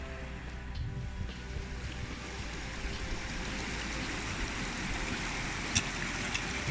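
The Castleguard River flows near its beginning just upstream of Castleguard Meadows, making a steady, broad rushing of water close by that holds an even level throughout with no voices.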